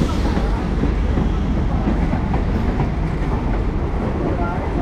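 A nearly empty Howrah–Belur Math local train runs along the line in Kolkata, a loud, continuous rumble and rattle heard from inside the carriage.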